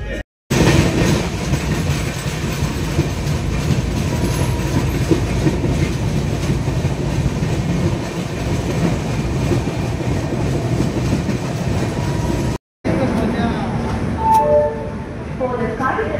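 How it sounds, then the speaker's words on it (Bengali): The Howrah Medinipur Galloping Local train number 38829 pulls into platform 3 at an Indian station, wheels rumbling and clattering steadily with a brief squeal near the end, under a loud station announcement. "train number 38829 up Howrah Medinipur Galloping Local is arriving on platform number 3"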